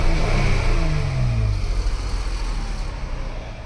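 A Chrysler 3.6 V6 engine, Dodge/Jeep type, revs up and falls back in one loud close burst, a rattly exhaust-leak-like edge on the roar as it drops away to a rough idle.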